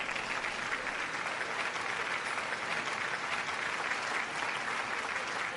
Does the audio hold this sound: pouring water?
no